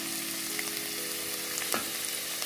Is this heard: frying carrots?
yes